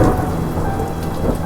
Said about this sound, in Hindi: एक रात बहुत ही तेज बरसात में